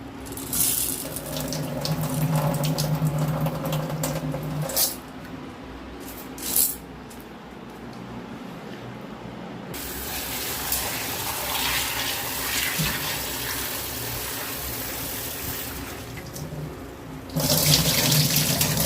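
Tap water runs steadily over an ingredient being rinsed in a kitchen sink, a continuous splashing stream with brief pauses and shifts in flow.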